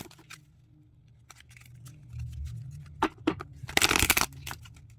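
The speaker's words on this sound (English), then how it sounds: "I'm going to shuffle them a few times for you just to see how they do" Tarot cards are shuffled by hand in a few separate passes, soft taps and flicks building to a louder riffling burst near the end, close and without speech.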